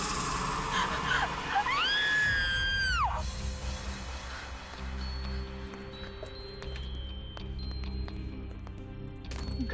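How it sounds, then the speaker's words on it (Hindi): A woman lets out a loud, piercing scream with a rising then wavering pitch that lasts about a second, then cuts off, leaving low rumbling ambience and faint clinks in a dramatic horror scene. "फिर ये चीख।"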